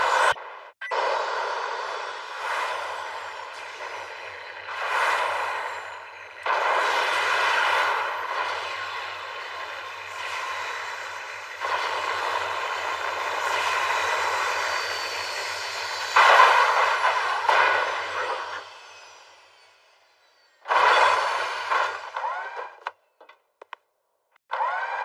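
The engine of a piloted aircraft roars loudly in long, sustained stretches broken by brief pauses, with a low hum underneath and a sudden cutoff into silence near the end.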